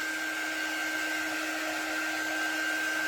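Hair dryer blowing steadily to dry fresh paint on a Santa drop-in craft frame insert, a constant close whooshing roar with a fixed whine running the whole time, no talk.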